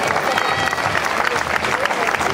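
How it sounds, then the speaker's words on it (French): Crowd applause rings out along a carnival parade route in Anzin, loud continuous clapping from many hands with a voice talking over it. "On peut les applaudir pour leur tour d'honneur comme il se doit."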